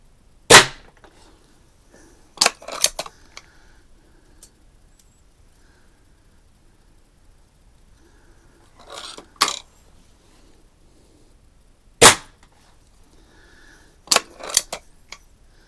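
Daisy 131 air gun pellet shots striking a can at 7 yards, several sharp isolated cracks spaced a few seconds apart, some landing in quick pairs, with near silence in between.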